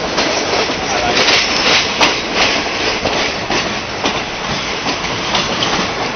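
A train in Bangkok at 6:30 in the morning rumbles along with a steady rhythmic clatter of wheels on track, loud and close, with faint talk underneath.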